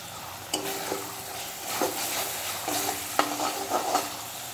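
Spice masala is stirred and fried in a pan for a Bengali chitol fish dish: a soft, continuous sizzle under repeated metallic scrapes and knocks of a spoon against the pan.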